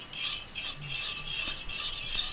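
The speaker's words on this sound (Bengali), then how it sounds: "ফাটিয়ে রাখা দইটা দিয়ে দিচ্ছি, ভালো করে ঘেটে নিচ্ছি।" A spoon stirs set yogurt starter into lukewarm milk for sweet misti doi, making a steady, close, gentle scraping and swishing with no talk.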